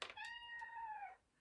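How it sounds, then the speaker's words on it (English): A house cat gives a single clear, drawn-out meow, close to the microphone and fairly quiet, with no other sound around it. "Sorry about my cat. All my cats."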